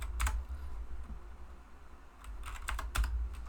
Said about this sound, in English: So let's type in Berlin.